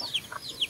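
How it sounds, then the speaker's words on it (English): A grandmother's chickens and chicks in a coop give a few short, high chirping calls in quick succession, close by. "So this is my grandma's chickens."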